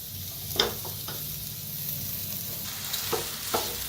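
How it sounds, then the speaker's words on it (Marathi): Mashed potatoes are mixed into a sizzling pan for vada pav filling: a continuous frying hiss with a few distinct scraping spatula strokes, close up. "बटाट्याला एकदा करून घेऊया मिक्स"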